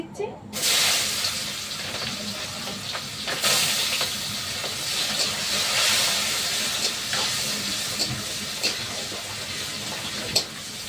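Onions hitting hot oil for a meat curry, a loud continuous sizzle and hiss that flares at the start and keeps crackling steadily throughout.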